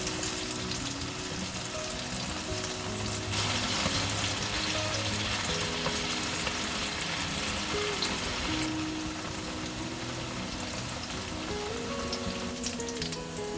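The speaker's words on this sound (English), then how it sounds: "Fry until both sides are golden brown." Sea bass frying in a pan of hot oil gives a steady, close sizzle with crackling spatter that swells for a few seconds midway. Faint kitchen sounds run underneath.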